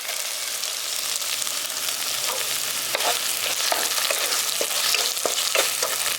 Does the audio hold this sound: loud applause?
no